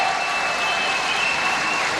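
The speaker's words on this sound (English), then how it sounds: "There you see the crowd, enthusiastic." Crowd at a 1996 bowling tournament applauding steadily, a dense even wash of clapping that holds at moderate loudness without a break.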